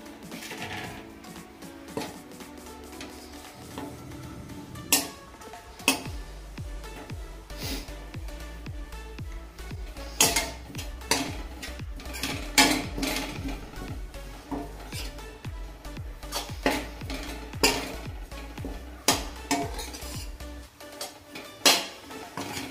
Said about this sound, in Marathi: इथे मी पाव किलो सुकं खोबरं बारीक किसून घेतलेलं आहे, ते पण आपल्याला थोडं परतून घ्यायचं आहे